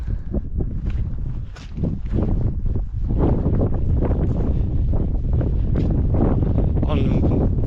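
Wind gusts roar across the microphone on open moorland at Bodmin Moor near Minions in Cornwall, a steady loud buffeting rush with a footstep-like scuff now and then and no clear voice.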